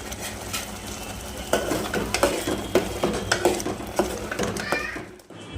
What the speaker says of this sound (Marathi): आधी तेलामध्ये टाकायचं, टमाटे चांगले फ्राय करून घ्यायचे